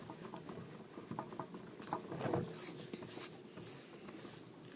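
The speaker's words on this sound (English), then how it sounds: "I'm erasing my pencil lines, pressing hard with my eraser." Rubber eraser pressed hard and rubbed back and forth across pencil lines on paper, giving a steady run of soft scratchy strokes, close and fairly quiet, with no voices.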